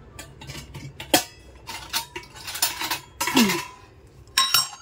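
A dish clinks and knocks against a plate of offerings of flattened rice, sugar drops and two lozenges while covering it, giving several sharp ceramic taps and scrapes spread unevenly across the moment, with no voices.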